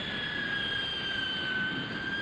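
A 1950 Hawker jet aircraft drones faintly in the distance, with a steady high whistling whine over a soft broadband roar.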